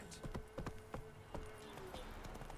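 Horse hooves clop in an uneven run of clicky beats over a steady background hum in The Witcher 3, with a faint tone drifting above; no one talks.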